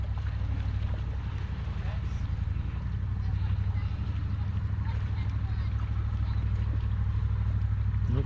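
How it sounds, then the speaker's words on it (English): A low, rumbling boat engine drones steadily at a constant idle after starting, on a saltwater fishing boat, with faint splashing and background noise. "Engine started."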